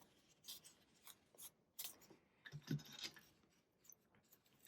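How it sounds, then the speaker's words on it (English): Scissors snip tabs off card stock for a handmade pop-up card, several short, crisp cuts close up in a quiet room, spaced irregularly. "I will cut the tabs off."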